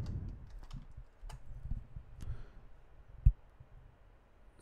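Scattered keystrokes on a computer keyboard, quiet irregular clicks close by with one sharper tap partway through, over a faint room background.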